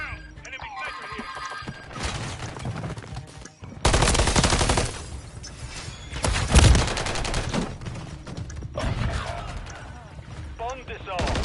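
Rapid gunfire and explosions fill a Modern Warfare 3 Search and Destroy match, with dense bursts, heavy impacts and a loud thump midway, and in-game voice callouts mixed in.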